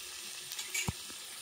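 Spices drop into a pan of fried onion, garlic, tomato and ginger, giving a quiet, steady sizzle with one brief, louder hiss of frying midway, and no voices.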